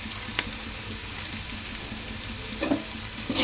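Turmeric powder fries in hot oil for egg rice, a continuous close hiss and crackle with a few sharper pops and a spoon scrape toward the end, no voices.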